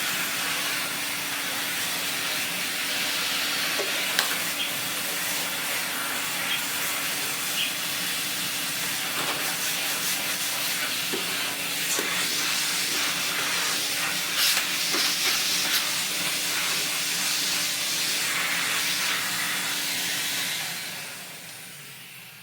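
Vacuum cleaner running steadily with a loud, broad rushing hiss of airflow and a low motor hum, continuous and close, tailing off at the end.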